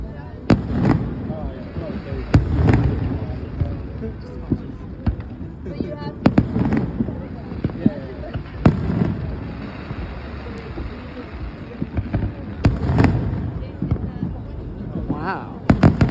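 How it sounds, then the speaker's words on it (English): Fourth of July fireworks burst over a riverwalk, a series of sharp booms and crackles spaced every couple of seconds against a steady outdoor crowd murmur, moderately distant. "The higher the firework goes, the louder it is."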